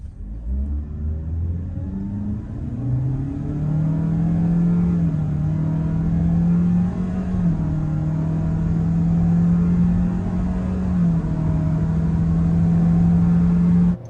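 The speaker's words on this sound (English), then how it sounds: "we did a drag race with the old Yaris, but that's a hatchback, and this is the result" A Toyota Yaris ATIV sedan and an older Yaris hatchback engine run hard in a drag race. The loud, steady engine drone climbs in pitch through the gears and then holds a sustained high-revving whine, with no talking.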